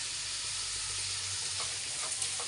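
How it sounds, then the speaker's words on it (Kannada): Onions with salt frying in a pan for tomato gojju, a steady soft hiss of sizzling oil with a few faint stirring taps, heard close with no talking. "ಇದು ಒಂದು ಸ್ವಲ್ಪ ಫ್ರೈ ಆಗಬೇಕು,"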